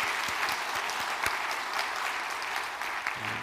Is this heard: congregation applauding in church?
yes